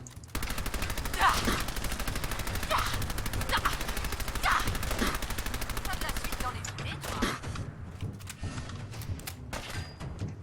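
Rapid automatic gunfire from the video game Fallout 4, a dense rattling burst running steadily for about six seconds, then scattered single shots and clatter trailing off.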